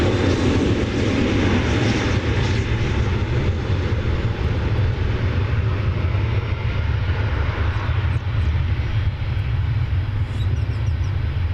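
An Airbus A321 airliner, Flight 1214 from Salt Lake City, roars in a sustained, heavy low rumble as it arrives at Dallas Fort Worth airport at daybreak, the engine noise loud and unbroken with no voices.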